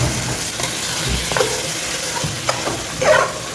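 Coriander and mint frying in a pot of mutton dum biryani, a steady sizzle with occasional stirring scrapes and soft clatters up close, no talking.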